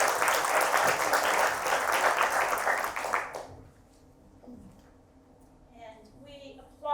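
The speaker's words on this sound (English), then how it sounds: "And we applaud Mrs. Baldwin in all of her efforts" An audience at a women's leadership event in St. Paul, Minnesota gives a loud burst of applause that stops abruptly after about three seconds, followed by quiet room sound and then a voice starting to speak.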